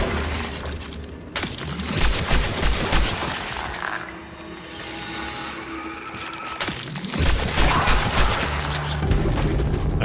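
Pistol shots in Cronos: The New Dawn, a video game, firing in loud sharp cracks across two busy bursts with a quieter stretch between, mixed with crashing, breaking game effects.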